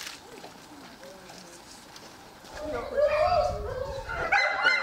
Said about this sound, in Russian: Собака обозначает пассивно, она при этом не гавкает.